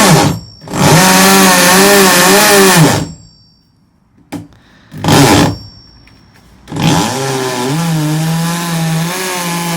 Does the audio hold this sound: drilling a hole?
yes